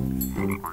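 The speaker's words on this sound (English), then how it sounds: "Oh, it's a frog." A frog gives a short, close croak, a couple of deep throaty pulses that rise into a brief higher call, heard alone.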